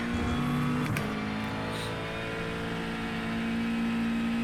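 A McLaren GT3 race car in the iRacing sim pushes through a hot lap, its engine a steady loud drone with shifting pitch and a brief gear change, heard alone throughout.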